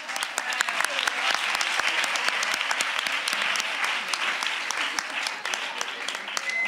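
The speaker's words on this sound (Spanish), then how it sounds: "Un aplauso." A crowd claps steadily throughout, dense applause with some louder individual claps standing out, fairly close and sustained.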